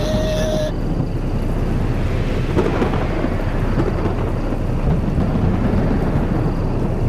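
A thunderstorm in the VR game Gorilla Tag rumbles as steady, loud low thunder over broad rain-like noise, with a brief tone at the start and no talk.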